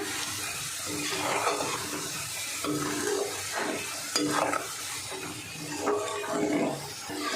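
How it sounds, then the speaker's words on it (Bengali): Potato sticks deep-fry in oil with a continuous bubbling hiss, broken by occasional stirring and scraping sounds close by. "দেখুন বন্ধুরা কত সুন্দর আলুগুলো ভাজা হচ্ছে"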